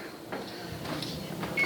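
An oven door swings open in a home kitchen while nachos are prepared, a couple of short clunks and a soft hinge creak close by, with quiet room noise between.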